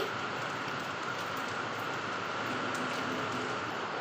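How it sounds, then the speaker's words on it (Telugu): Rain falls steadily outside a home, a soft, even hiss that stays constant throughout with no voices over it. "మాకైతే బయట వర్షం పడుతుంది"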